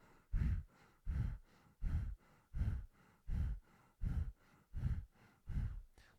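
Bhastrika bellows breathing, the belly pumping in and out with a slightly constricted throat: nine forceful, evenly spaced breaths in a steady rhythm, close and loud, with no talking.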